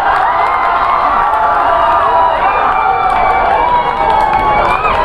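A dense, packed crowd at a kabaddi match, sustained loud cheering and shouting with children's voices mixed in, a continuous roar with no breaks throughout.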